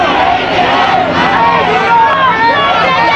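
A large protest crowd of around a thousand people gathers outside the US consulate in Toronto, a dense loud babble of many voices and shouting that continues throughout.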